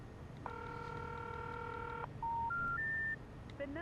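A telephone number is dialed on a keypad: one long tone, then a rising sequence of shorter beeps and a quick final burst, clear over a quiet background hum.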